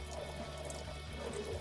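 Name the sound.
watering orchid pot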